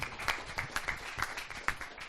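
A small audience applauds after a startup pitch at a pitch event, a thin, uneven patter of scattered claps with a few louder individual hands standing out over about two seconds.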